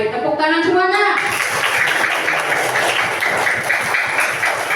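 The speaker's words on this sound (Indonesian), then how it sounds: "Tepuk tangan semuanya." Children's voices give way to a group of schoolchildren clapping together in class, a rapid, scattered patter of many small hands nearby.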